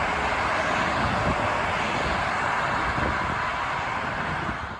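Highway traffic streams along Lake Shore Drive in Chicago, a dense, continuous roar of passing cars and trucks, loud and steady with no voices.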